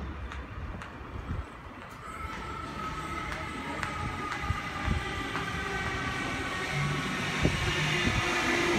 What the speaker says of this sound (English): We have a Waratah approaching platform 1 for a city circle by airport service.